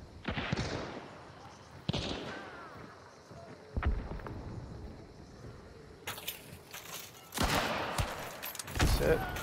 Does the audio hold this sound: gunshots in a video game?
yes